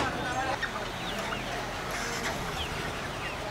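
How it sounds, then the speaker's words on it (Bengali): Sonali chickens cluck over general bustle at a rural village market in Tetulia, with voices in the background and scattered bird calls. "320 টাকায় বিক্রি হচ্ছে সোনালী মুরগি।"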